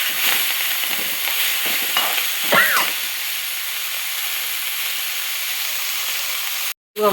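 Coriander stems sizzle and fry steadily in a pan, a continuous broadband hiss with brief stirring scrapes near the start and a short cutoff near the end.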